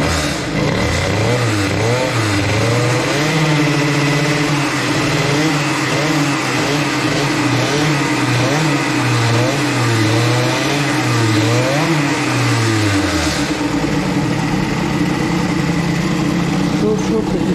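A KTM 65SX dirt bike engine revs and warms up close by, its pitch rising and falling in repeated swells before dropping back toward idle near the end.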